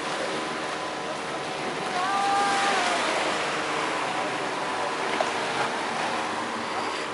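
Sea waves break near a hotel compound on the Malaysian coast, a steady broad wash of surf with a brief swell in the middle and faint whistle-like tones above it. No one speaks.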